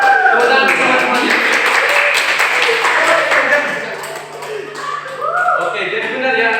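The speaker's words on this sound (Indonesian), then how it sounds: "Tepuk tangan teman-temannya." Participants in a waste-sorting hygiene outreach session clap together on cue: a short burst of group applause, near and loud, fading midway and then picking up again, with a voice and a tone heard around it.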